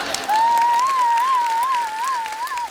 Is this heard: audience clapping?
yes